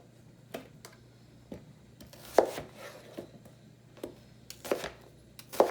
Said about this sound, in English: I'm going to cut them into each half into 3 wedges